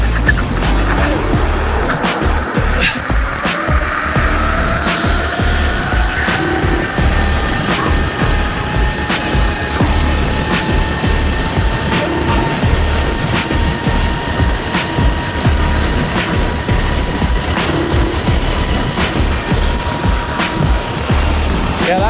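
A GTR electric scooter accelerating hard during a top-speed drag run, carrying a steady rising motor whine over heavy, constant wind rush and road roar that stay loud throughout.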